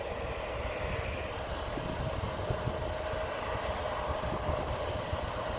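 Airliner taking off from Amsterdam Airport's Aalsmeerbaan runway 18L, a steady distant roar of jet engines with rumbling low end, continuous and fairly faint.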